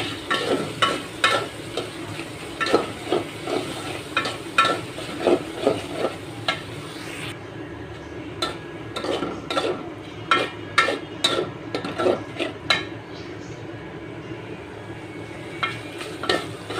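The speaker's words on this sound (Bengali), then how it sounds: "লবণটা দিয়ে আরও কষিয়ে তারপর সবজি দিয়ে দিব" Spiced masala paste with salt frying in a pan for an ucche bhaji dish, steady sizzle broken by repeated scraping strokes of a spatula against the pan, close and fairly loud, with no voices.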